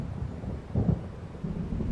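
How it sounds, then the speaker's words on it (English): Low rumbling thunder of an approaching storm in the video game Alan Wake, a steady dark roll with a heavier swell midway, heard alone without talk. "It seems there's a storm coming."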